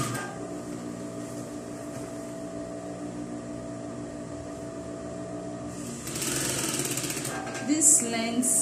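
A sewing machine stitching the seam of a flare dress, a steady close mechanical whir with a rapid needle chatter that grows louder and busier toward the end, with no talking over it.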